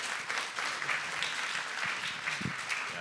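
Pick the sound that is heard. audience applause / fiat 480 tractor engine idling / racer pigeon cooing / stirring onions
audience applause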